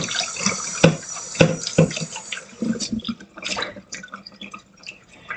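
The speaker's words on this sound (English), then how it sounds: "Okay, and rinse it off." Raw chicken pieces rinsed under a running kitchen tap, a steady splashing stream with a few sharper drips and plops as the meat is turned, close and loud with no voices.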